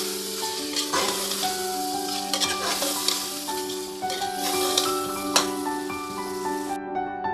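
Steady sizzling of ground spices and coriander frying with chicken in a pan, with repeated scraping and clinking of a spoon stirring, close and continuous.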